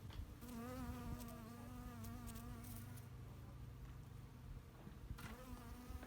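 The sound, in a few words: bees buzzing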